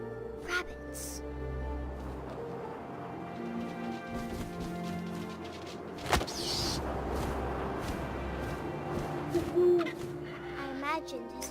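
An owl hoots in the video game What Remains of Edith Finch, soft calls over a low wind-like drone and game ambience, with a sharp thump midway and faint rustling through the scene.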